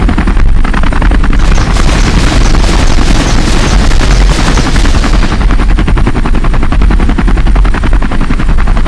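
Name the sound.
missiles firing in Halo video game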